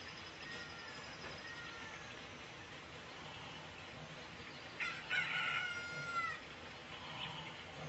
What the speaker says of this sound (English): Huh, you got a chicken.